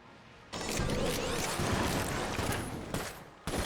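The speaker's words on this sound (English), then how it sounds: "I can very easily do this with some explosions." Continuous barrage of explosions and gunfire in the Enter the Gungeon video game, a dense, loud roar lasting about three seconds before cutting out, then briefly returning.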